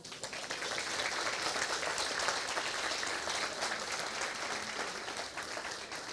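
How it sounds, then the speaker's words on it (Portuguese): A church congregation claps in praise, a continuous wash of many hands at moderate distance, steady and fairly soft without any voices over it. "Você pode aplaudir o Senhor aí?"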